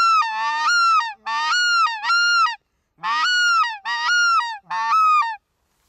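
Low-pitched white-fronted goose call imitated on a caller or by voice: six loud, close honking bursts in two groups of three, each a short call sliding into a drawn-out honk, with no talking.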